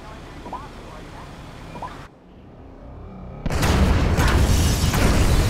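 Incendiary bombs detonating in GTA 5, a sudden heavy blast after a brief hush that rolls into a loud sustained roar of fire and debris, close and dense, with voices speaking earlier over background noise.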